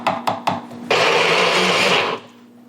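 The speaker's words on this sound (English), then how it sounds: "This is not our Father's blender, or whatever that saying is." Kitchen blender crushing ice in water: a few knocks and clicks, then a loud whirring roar for over a second that stops abruptly and leaves a faint hum.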